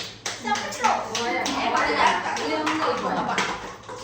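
Hands clap during a children's game, a few quick claps up close mixed with shuffling, while children and adults talk over them.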